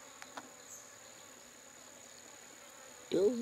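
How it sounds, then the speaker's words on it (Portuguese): A swarm of bees gathers over muddy ground beside water in a rural setting, giving a steady, faint buzzing hum throughout, with a few brief knocks early on and a short louder sound near the end. "Aquelas abelhas ali, o que será que estão fazendo ali?"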